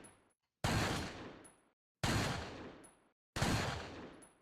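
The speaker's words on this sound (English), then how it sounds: "the same two gunshots going off right now" Three loud, sharp gunshots from the Resident Evil 4 video game ring out at steady intervals of about a second and a half, each with a long decaying echo tail, with no talking.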